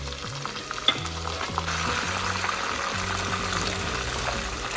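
Onions, cashews, raisins and curry leaves fry in oil for chicken biryani, with a dense, steady sizzle and soft stirring scrapes close up throughout.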